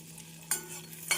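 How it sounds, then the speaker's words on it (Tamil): Faint sizzling of chopped garlic frying in butter in a pan with a couple of brief stirring scrapes, close and quiet under a low steady hum. "கடாயில் சிறிது பட்டர் போட்டு நறுக்கிய பூண்டை சேர்த்து விடலாம்"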